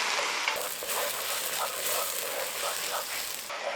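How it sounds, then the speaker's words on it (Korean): Soy-sauce glaze with sugar, carrot and minced chili being stirred and reduced in a pan for Korean soy-glazed fried chicken, giving a steady close-up bubbling sizzle with soft scraping strokes throughout. "다시 한번 저어주고 양념을 넣고 졸여줍니다"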